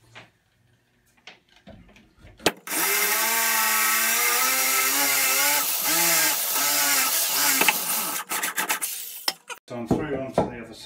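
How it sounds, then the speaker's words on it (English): An electric corded drill with a Forstner bit bores through wood while building a water cupboard, whining loud and steady for about seven seconds, then slowing and stopping with a few handling knocks. "electric drill."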